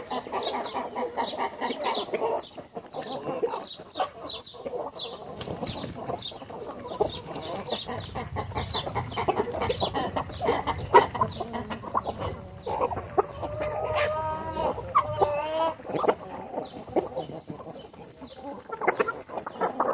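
Chickens cluck and chatter on a farm, with several birds close by giving irregular overlapping calls and short squawks, steady throughout and with no speech.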